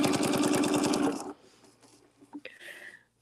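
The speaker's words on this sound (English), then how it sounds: "And so we're going to just stitch, move it, and stitch." A sewing machine stitches a quilt during free-motion circle work with templates, running loud and steady in a fast rhythmic chatter for about a second before stopping. A few faint clicks and light handling noises follow in the quiet.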